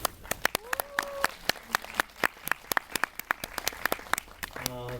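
An audience applauds director Michael Winterbottom at a film master class in Seoul, dense steady clapping from many hands, moderately distant, with a brief voice heard under it.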